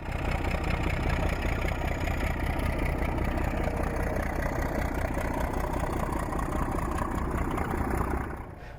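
A DE class diesel locomotive, number 507, runs on a heritage line, its engine holding a steady, loud low throb with a broad mid-range rumble that drops off sharply in the last half second.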